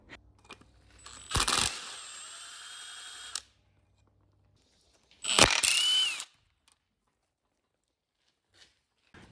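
Glow plugs are worked out of a Mercedes OM606 diesel engine with tools, with two separate bursts of loud whirring tool noise, each a couple of seconds long, and silence between them.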